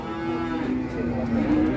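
Simmental breeding cows at the Jetis cattle market in Ponorogo, East Java, give a sustained, loud, close low moo that lasts the whole moment, with no talk over it.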